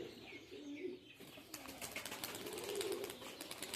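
Pigeons kept alongside chickens coo softly in low, repeated murmurs, followed by a burst of flapping wings and fluttering movement nearby.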